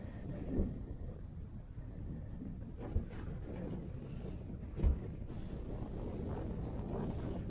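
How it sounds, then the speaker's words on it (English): Steady wind buffeting the microphone on a hike up Haystacks in the Lake District, a constant low rumble with a few sharper gusts, no voices. "So we've had lunch and the wind's got up."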